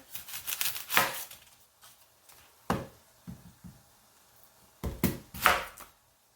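A kitchen knife chops a very large onion on a cutting board while ground beef cooks for tacos, with irregular bursts of crisp close strikes separated by quiet pauses.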